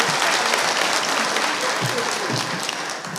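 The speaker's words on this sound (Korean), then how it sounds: "아름다운 찬양 경례 박수하겠습니다." A church congregation at a Wednesday worship service applauds after a hymn, with steady, dense clapping filling the room throughout and tapering slightly at the end.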